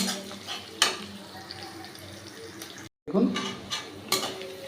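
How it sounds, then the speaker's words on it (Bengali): A utensil stirs whole coriander seeds frying with onion in a pan over a low flame, producing scraping and clinking strokes with a soft sizzle beneath, interrupted by a brief cut to silence. "আমি ধনেটাকে একটু ভেজে নিলাম"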